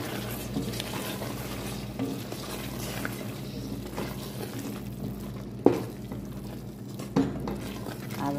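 Washed lentils are added to a pan and fried for an Arabian dish, heard as soft close stirring and scraping with a faint sizzle, plus a couple of sharp clinks from a utensil against the pan.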